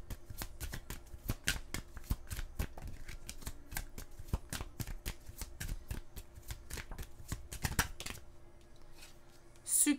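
Tarot cards being shuffled and handled, a rapid run of soft, crisp riffling clicks close by and fairly quiet, continuing steadily for several seconds before a brief louder touch at the end.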